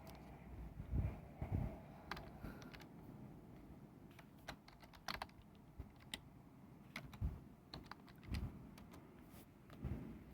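Keys tapped on a computer keyboard while someone types a word into a word processor, heard as scattered, uneven clicks at close range against a quiet room, with no talking.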